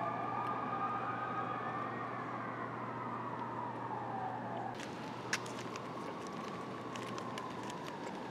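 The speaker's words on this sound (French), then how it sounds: "en arrière-plan sonore les hurlements des sirènes" Emergency vehicle sirens wail steadily near a small Quebec school, their rising and falling pitch sweeping over a constant low hum, with a brief sharp knock partway through.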